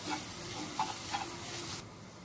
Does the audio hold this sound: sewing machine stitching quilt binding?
no